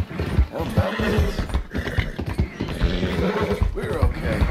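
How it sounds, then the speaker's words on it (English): A horse in Red Dead Redemption 2 neighs and snorts while its hooves clip-clop in an uneven rhythm, all close and clear, with no one talking. "Ain't you a good horse?"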